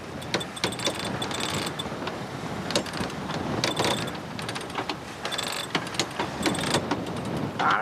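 A sailboat winch cranked with a handle aboard a sailboat in the US and British Virgin Islands, giving repeated ratcheting clicks in uneven bursts over steady wind and water noise.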